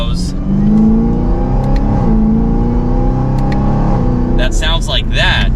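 A 2024 Chevrolet Camaro ZL1 V8 accelerates hard, loud and close with rising harmonics and a gear change, and someone talks over it near the end.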